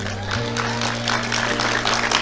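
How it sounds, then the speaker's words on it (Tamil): Audience applause at a Tamil motivational talk by Prof. Parveen Sultan, a dense steady patter of many hands over a low hum, continuing evenly throughout. "கைத்தட்டல் எல்லா திருநெல்வேலி அம்மாக்களுக்கும் சமர்ப்பணம்"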